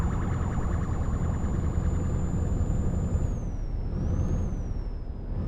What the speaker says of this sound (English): Don't sound like our police, but better than having no police at all, sirens.